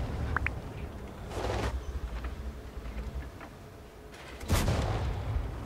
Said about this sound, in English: let's fire one high explosive